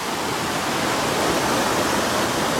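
A mountain torrent in the Clarée valley of the Hautes-Alpes, spanned by a small footbridge, roars as a loud, steady wash of rushing water with no break or other sound.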